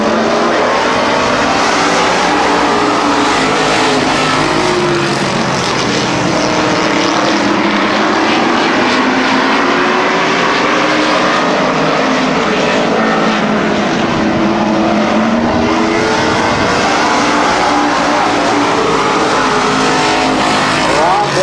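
Race cars circle the Midvale Speedway track, a loud, continuous engine roar that swells and recedes as the pack passes, lasting the whole stretch with faint commentary beneath.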